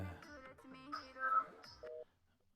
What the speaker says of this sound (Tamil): ஃபோன் அடிக்குது, எங்க போனாவ?